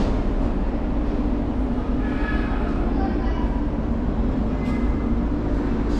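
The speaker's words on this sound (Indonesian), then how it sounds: "Beginilah suasana stesen MRT." MRT train station ambience in Singapore, with a steady loud rumble of a train and rail noise filling the space and faint background voices mixed in.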